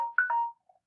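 A phone ringtone plays a brief electronic melody of a few clear tonal notes, fairly close, and then stops, with no talking.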